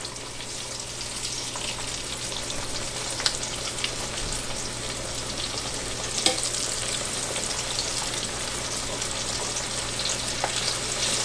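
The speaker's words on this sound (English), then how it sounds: "Alright, so now we're gonna start frying the birds." Dove birds frying in a pan of hot oil, giving a steady, even crackling sizzle with occasional louder pops throughout, close and alone without talk.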